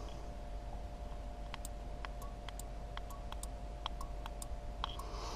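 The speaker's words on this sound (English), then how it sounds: "You hear the relay. One of these relays is clicking." Faint, irregular ticking clicks sound one after another over a steady low electrical hum, a relay clicking inside the exhaust cutout controller box of a 1968 Dodge Charger.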